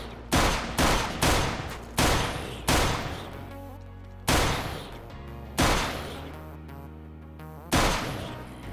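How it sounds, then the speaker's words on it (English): Gunfire in a Minecraft-style space survival game, firing in bursts of loud, sharp shots: a quick run of four or five, then single and spaced shots echoing with ringing tails. "I'm trying to be accurate with my shots too, so I'm not wasting bullets"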